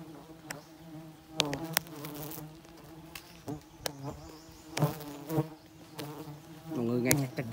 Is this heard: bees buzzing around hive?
yes